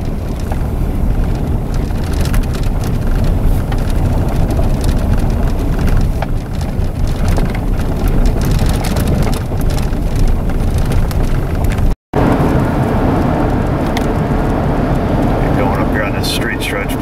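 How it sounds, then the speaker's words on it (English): Wind blowing on a blustery day during a test drive after a front wheel alignment, a loud continuous buffeting rush across the microphone with road noise, and voices talking over it. "Pretty blustery day, so it's hard to tell with the wind blowing."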